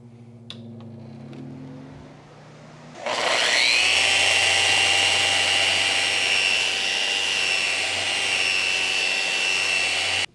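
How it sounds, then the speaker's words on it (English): A power sander runs with its dust extraction hose attached. After a quiet start it switches on about three seconds in, becoming a loud, steady whirring roar with a high whine that holds to the end. "I'll just secure it with a clamp, then I'm ready to sand."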